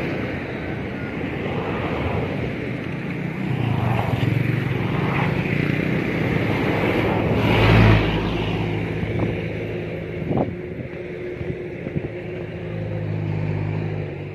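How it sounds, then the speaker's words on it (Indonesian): Steady roar of heavy roadside traffic at a busy Indonesian street in Ampah, with continuous engine rumble and vehicles swelling past nearby, one louder pass around the middle, no voices. "Pas banyak kendaraan."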